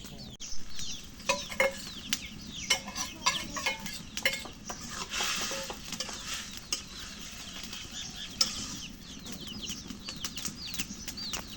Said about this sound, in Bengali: এই যে এখন মাছের ডিমটা দিয়ে দিই